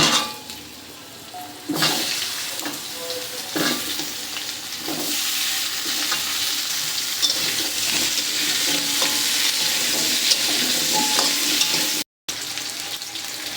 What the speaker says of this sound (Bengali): বন্ধুরা, দিয়ে দিলাম কেটে রাখা আলু।